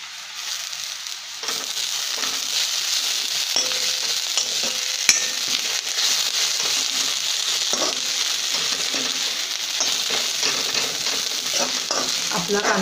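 Chopped onion and coconut sauté in a pan with a steady, close sizzle and occasional stirring scrapes throughout, with no talking.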